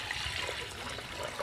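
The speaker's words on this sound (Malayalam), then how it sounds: "കഞ്ഞിവെള്ളം ഒഴിക്കുക" Rice water pours into a clay pot being seasoned, a short, continuous gurgling trickle of liquid heard close up with no talk.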